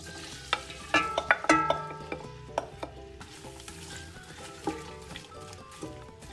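Sliced onions sauteing in melted butter in a stock pot over medium heat, uneven scraping and clattering stirs with sharp metallic knocks early on over a low sizzle.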